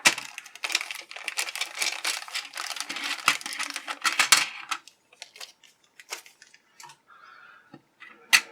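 A taped plastic bag holding G.I. Joe Cobra Island figure stands is cut and pulled open, giving loud crinkling and rustling for several seconds, then sparser crackles and a sharp final rustle.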